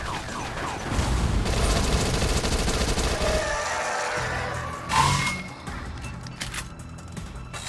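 Rapid gunfire from flamethrower, shotgun and SMG weapons in the zombie video game Dead Nation, a dense continuous burst for a few seconds, then a single boom and quieter mechanical clatter.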